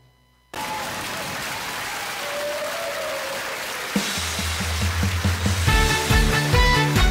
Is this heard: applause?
yes